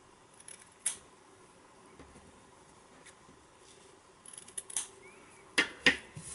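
Scissors trimming leftover bits of fabric on a handmade Christmas decoration give a few quiet, sharp snips, spaced apart near the end, in an otherwise hushed room.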